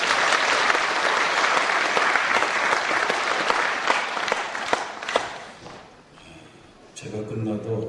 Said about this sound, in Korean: 역시 박수 한번 부탁드립니다